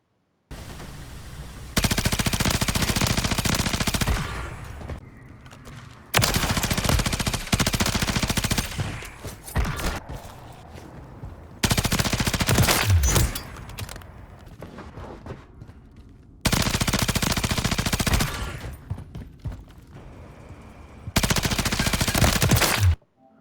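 The Bruin machine gun firing in the Warzone 3 video game: five long, loud bursts of rapid automatic fire, each lasting a few seconds, separated by quieter stretches of background game sound.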